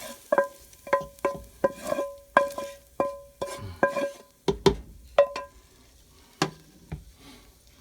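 Hamburger chili being stirred in a pot, a utensil knocking the sides in a steady rhythm of sharp clinks over a low scraping churn, close and fairly loud with no talk.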